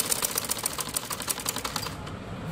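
Sewing machine stitching fabric folded over a kameez neckline, a fast, steady run of close mechanical clicks with no voices.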